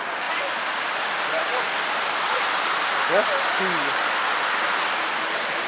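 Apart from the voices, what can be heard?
heavy rain falling on Dal Lake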